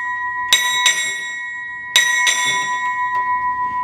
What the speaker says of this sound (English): Six bells.